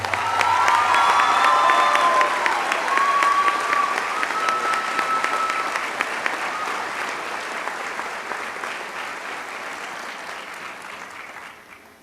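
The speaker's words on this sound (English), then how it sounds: "How about one more round of applause for Keona?" A commencement audience at Central Methodist University applauds and cheers loudly, a dense sustained ovation with scattered shouts that slowly thins and tapers off near the end.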